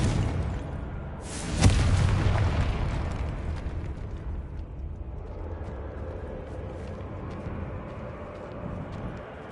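A single sharp Confringo spell explosion in the video game Hogwarts Legacy bursts loudly, then trails into a long rumbling decay over quiet game ambience.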